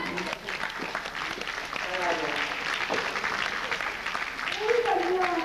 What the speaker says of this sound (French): Voilà, on l'applaudit.